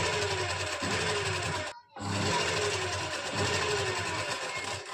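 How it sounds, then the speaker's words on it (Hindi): An electric sewing machine runs loud and close, stitching kurta fabric to its lining with long basting stitches. Its steady motor whir and rapid needle chatter stop briefly for a moment, then resume unbroken. "इस तरह से हम पूरे में बड़े टांके की सिलाई लगा के हम साइड से भी अपनी लाइनिंग और कमीज के फैब्रिक को स्टिच कर लेंगे।"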